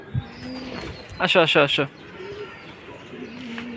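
Racing pigeon cooing close by in a short burst of several rhythmic coos, with a person calling to the bird just before and after.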